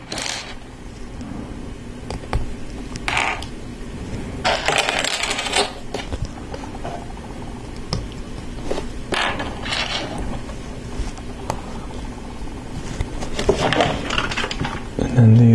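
LEGO Technic non-friction pins with axles pressed into trans-clear pulley wheels for a Star Wars First Order Transporter set, small plastic clicks and rattles in scattered bursts, close up, with a voice talking in between.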